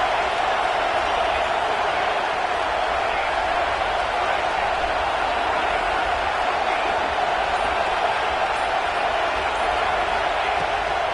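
A big crowd at a college football game between Tennessee and Texas roars in a steady, dense wall of noise throughout, with a commentator talking over it.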